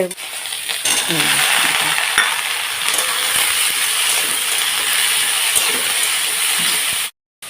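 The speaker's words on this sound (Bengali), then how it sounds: "আধ ভাজা হয়ে গেছে পেঁয়াজ, এবার দিয়ে দেবো" Half-fried onions sizzle steadily in a pan, a continuous dense hiss that holds at an even level before cutting out briefly near the end.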